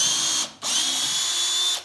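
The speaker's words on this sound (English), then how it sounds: "and drill through." A high-pitched power drill whines loudly drilling through a conveyor belt, stops briefly, then spins up again and runs steadily close by.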